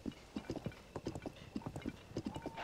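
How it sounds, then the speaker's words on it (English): Quick, rhythmic clip-clop of horse hooves in The Legend of Zelda: Tears of the Kingdom, a lively trotting pattern, fairly close and evenly paced. "Run, horse! Run!"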